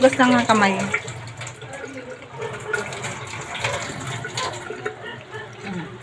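Water runs steadily from a tap while a child washes their hands, a continuous hiss heard close by beneath an adult's voice.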